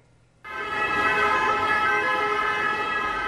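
Ambulance sirens wail loudly and continuously during a protest blockade on roads leading to Paris, starting abruptly after a quiet half second and holding steady, with no voices.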